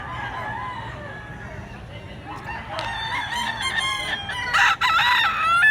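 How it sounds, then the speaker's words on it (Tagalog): A rooster crows close and loud at a spot in Mantalungon, Cebu, its long cock-a-doodle-doo rising over a murmur of voices in the background. "Gandang manok."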